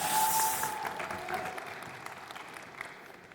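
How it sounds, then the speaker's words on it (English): Applause from an audience, loudest at first and gradually thinning out into scattered claps. "big round of applause, everyone, for Ana Maria."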